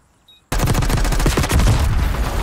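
Rapid automatic gunfire from a Search and Destroy video game match erupts suddenly after a near-silent moment, a loud close burst of shots continuing to the end.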